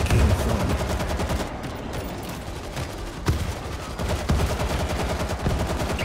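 Loud, continuous gunfire rattles through World War Z as players hold off a zombie swarm, with dense rapid bursts and sharp individual shots overlapping throughout.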